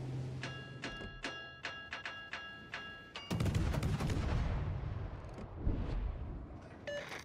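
Naval guns firing in a video game, a rapid run of sharp evenly spaced shots followed by heavy booming salvos with rumbling tails, loud and close, with no talking.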